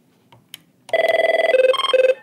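An Avaya 1416 IP Office desk phone rings loudly and alone, a rapid warbling electronic trill that steps between two pitches in a short burst.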